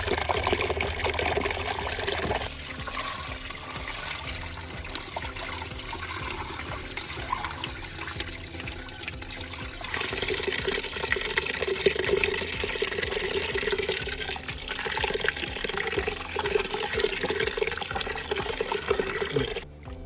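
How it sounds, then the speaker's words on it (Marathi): Soaked wheat grains washed in water, a steady close sloshing and pouring of water with swirling grain movement throughout, continuous and moderately loud. "अशाच पद्धतीने गहू चांगले धुवून घ्यायचे आणि नंतर मग वाटायचे"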